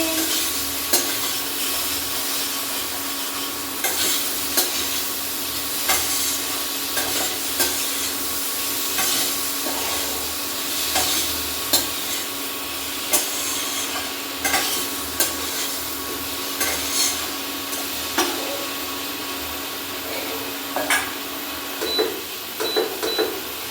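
Curry with tomato and ginger cooking in a pan, a continuous close sizzle with frequent scraping stirs of a utensil against the pan, repeating irregularly throughout.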